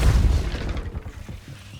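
The Depulso spell in the Hogwarts Legacy video game lands as a heavy, booming blast that rumbles close and loud, then fades over a second or so.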